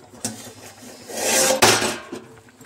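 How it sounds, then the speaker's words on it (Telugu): A metal lid set back onto a pot of simmering mango fish curry, giving a clattering, scraping clank near the middle, close and moderately loud, with smaller kitchen knocks around it. "ఇప్పుడైతే మళ్ళీ మూత పెట్టేద్దాం."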